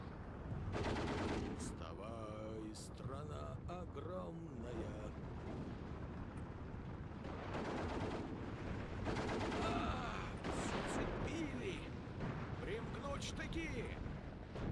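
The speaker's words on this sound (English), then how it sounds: "I'm gonna just mortar that. Yeah, let's get all of my rounds to just go onto the MG." Dense battle sounds in the WW2 strategy game Steel Division 2, with mortar rounds and machine-gun fire rattling continuously, and someone talking over the steady din.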